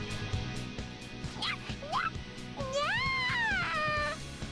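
Cat meows from the video game Persona 5 Royal: a couple of short rising mews, then a longer drawn-out wavering meow, heard over steady game background sound.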